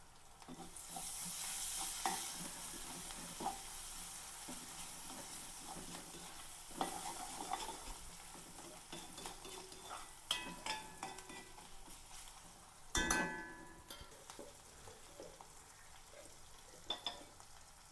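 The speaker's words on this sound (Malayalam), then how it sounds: "രണ്ട് വറ്റൽ വറ്റൽമുളക് ഇട്ട് കൊടുക്കാം" Dried red chillies sizzle and fry in hot oil in a pan while being stirred, a steady close crackle with scraping stirring strokes and a sharper clatter of the utensil partway through.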